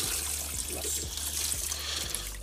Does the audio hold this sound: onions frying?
no